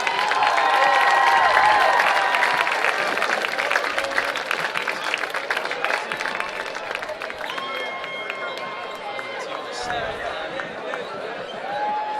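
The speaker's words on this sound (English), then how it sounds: "Let's give a round of applause for all the homecoming court this year." A large crowd claps and cheers steadily at a high school football game halftime, echoing through a big open space, with voices mixed into the noise.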